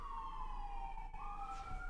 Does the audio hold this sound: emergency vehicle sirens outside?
yes